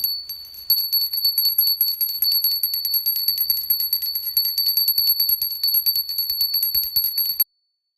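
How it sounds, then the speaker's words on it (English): Small hand bell rung continuously during a Diwali Lakshmi ritual, a bright sustained ringing with rapid repeated strikes for about seven seconds, close and alone, then stopping abruptly. "And I will ring the bell around."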